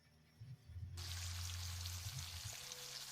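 Sliced onion dropped into hot cooking oil in a casserole pot, with a sudden loud, steady sizzle and crackle that starts about a second in and keeps going, plus a low hum beneath it.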